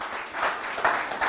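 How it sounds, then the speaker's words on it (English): A brief patter of applause at an open-source conference talk, the clapping swelling and ebbing in short waves at a moderate, slightly distant level. "give the faculty and staff a round of applause"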